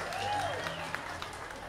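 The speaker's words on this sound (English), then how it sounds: "Can we please have a round of applause for the white people who came out to West End?" Faint, distant applause from a concert audience at a West End venue, soft steady clapping with a few voices mixed in, low in level throughout.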